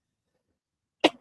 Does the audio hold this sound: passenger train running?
no